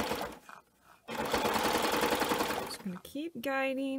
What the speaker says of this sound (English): I'm going to go ahead and keep serging